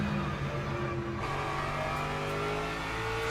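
A race car engine in the sim racing game Le Mans Ultimate holds a steady, loud drone with a gently rising pitch as it accelerates, continuous and without talk.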